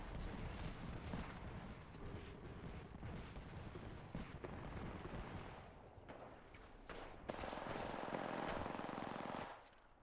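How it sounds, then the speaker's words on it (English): Rapid, dense bursts of weapon fire and explosions from the Knuckle Cluster in the video game Apex Legends, loud and continuous, with a brighter roaring blast near the end before it cuts off. "Knuckle cluster's firing."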